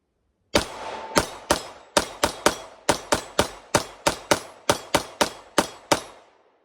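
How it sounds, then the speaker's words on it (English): A Sig Sauer 9mm Luger pistol empties a magazine downrange in a string of about fourteen sharp, loud shots. The rhythm is fairly steady, with short ringing decays between reports and no talking. "Let's go ahead and put this last mag down range, shall we?"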